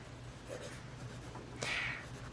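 Fine-nib Lamy All-Star fountain pen inked with Lamy Dark Lilac scratching across paper, faint soft strokes close up, with one brighter, louder stroke near the end.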